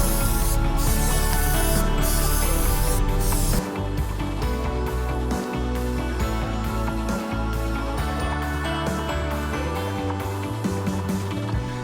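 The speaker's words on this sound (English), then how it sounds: "and I'm at the end of the spraying process, luckily" PlastiDip rubber coating sprayed from an aerosol can onto light fixtures outdoors: a steady, loud, continuous hiss with short pauses between passes, close to the can and with no talking.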